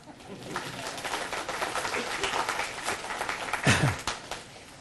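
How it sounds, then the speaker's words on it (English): A lecture audience claps at a keynote talk, a moderate, somewhat thin patter of hands that rises and holds briefly with a little murmuring. "You can clap now."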